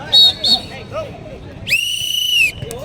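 A referee's whistle at a Dubai amateur basketball game gives two short sharp blasts, then one long shrill blast, over faint court chatter and voices.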